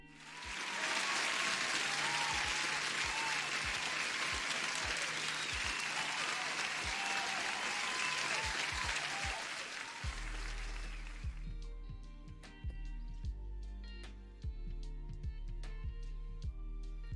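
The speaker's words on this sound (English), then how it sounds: "you guys deserve an applause" A sustained burst of crowd applause, dense and loud for about ten seconds, then cutting off into quieter scattered sounds with sharp intermittent clicks and a low hum underneath.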